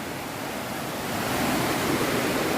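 Kolli Hills waterfall running full after heavy rain, a dense, steady roar of rushing water close by that swells slightly louder toward the end.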